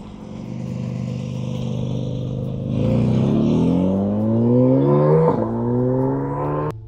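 Porsche 718 Cayman GT4 RS engine pulling away from a standstill on a wet road just after rain, with a steady idle-like drone rising into a clear revving climb, one gear change mid-clip before the pitch climbs again, loud and close with no talking.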